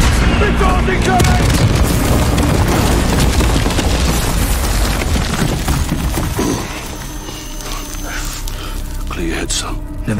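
Heavy booms and crashing blasts from missile strikes fill a Call of Duty Modern Warfare battle scene, loud and dense at first and then easing into scattered rumbles and impacts, with shouted voices mixed in.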